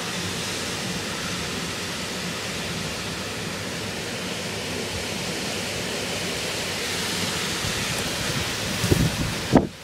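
Heavy rain pours during a summer thunderstorm, a dense continuous roar at steady volume, with a couple of sharp knocks near the end.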